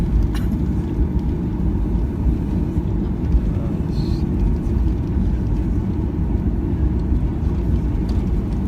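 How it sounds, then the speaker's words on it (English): Thomas Cook Airlines Boeing 737-8JP jet, heard as a steady, loud broadband engine roar that holds evenly throughout with no break or change in level. "That's Thomas Cook Airlines Boeing 737-8JP"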